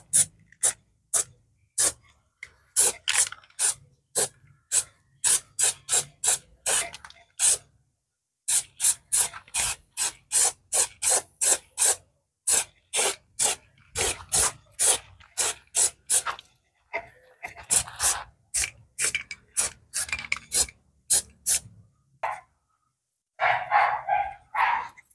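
An aerosol spray paint can sprays a rear bumper car part in quick repeated bursts, each sharp hiss short and close, broken by brief pauses, with a weaker, sputtering spray toward the end as the can runs low.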